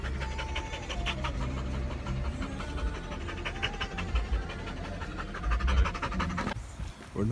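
A dog pants rapidly and rhythmically close up for several seconds, a quick run of breathy puffs with outdoor background noise.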